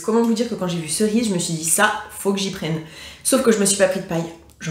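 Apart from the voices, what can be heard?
No everyday noise stands out behind the speech.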